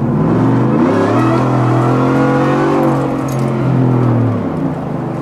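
Supercharged 600 whp Ford F150 pickup on a wet road at 35 degrees, its engine revving loud and close with a rising then falling whine.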